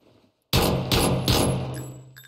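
Several pistol shots in a PUBG match ring out in quick succession, loud and close, each sharp crack trailing into a short ringing tail with faint game ambience between.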